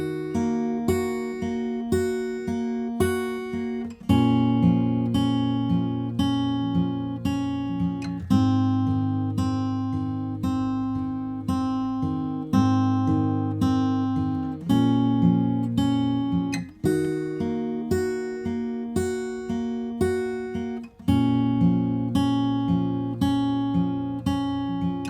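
An acoustic guitar plays the fingerpicked bridge, with plucked chords ringing out in an even, steady pattern and changing every few seconds, close and clear with no talk.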